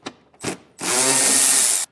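Power tool fitted with a 10mm socket backing out fascia screws: two short bursts of spin, then a loud, steady whirring run of about a second that stops abruptly.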